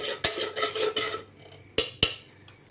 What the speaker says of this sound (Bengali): এবার এটা একটুখানি নাড়াচাড়া করে নেবো মিশিয়ে নেব